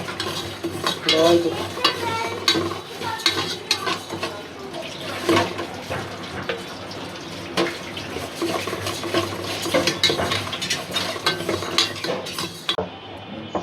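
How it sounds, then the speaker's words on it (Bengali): Mung dal dry-frying in a pot for khichuri on a rainy day, with steady scraping stirs and soft sizzling and a few sharp utensil clicks, close and fairly loud, no talk. "মুগ ডালটা ভাজতেছি, খিচুড়িটা খাইতে ভালো লাগবে।"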